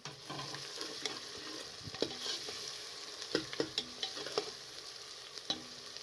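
Onions, garlic and ginger with cumin fry in oil in a pressure cooker over a medium flame, a steady sizzle broken by frequent clicks and scrapes of stirring, with no voices.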